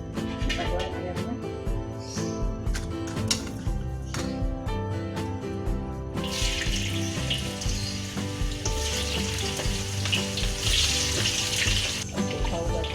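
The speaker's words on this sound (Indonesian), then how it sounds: "kita goreng ayamnya." Chicken pieces fry in hot oil for Indonesian ayam geprek, a close, steady crackling sizzle that swells into a dense, louder hiss partway through.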